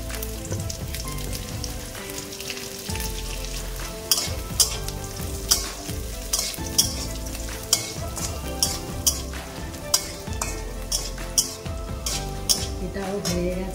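Biscuit halwa fries in ghee with a continuous bright sizzle, while a spoon scrapes and stirs the pan in a steady rhythm of sharp strokes.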